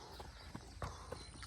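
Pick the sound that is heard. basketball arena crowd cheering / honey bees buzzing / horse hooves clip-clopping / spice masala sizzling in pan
horse hooves clip-clopping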